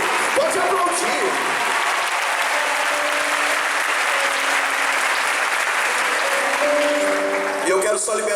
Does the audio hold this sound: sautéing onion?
no